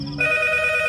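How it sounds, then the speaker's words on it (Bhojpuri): A landline telephone rings with one short electronic tone burst, close and moderately loud, with a brief different tone just before it and no one speaking. "अरे कौन पपिया है टाइम में फोन करे रे? रिंग जाता।"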